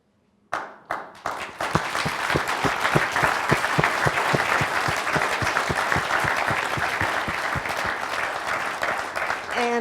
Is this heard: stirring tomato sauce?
no